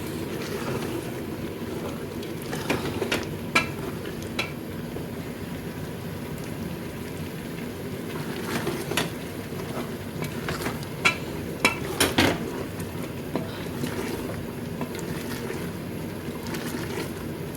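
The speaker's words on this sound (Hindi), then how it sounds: "अब इसमें ना गर्म पानी मैंने दूसरी तरफ रखा हुआ है वो डालूँगी" Hot water pours into a pot of cooking chicken and black chickpeas with a steady rushing hiss, broken by a few sharp metallic clinks of utensils. No one speaks.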